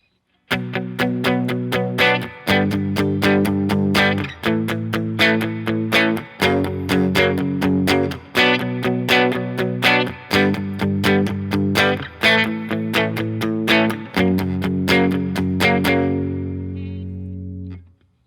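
Guitar playing a verse chord progression: steady strummed chords in a driving rhythm, with changes roughly every two seconds, ending on a final chord left ringing, loud and close with no talking.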